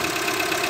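A Renault Logan engine with an iron block, just back from rebuilding, runs steadily up close with a dense, continuous mechanical clatter and faint knocking.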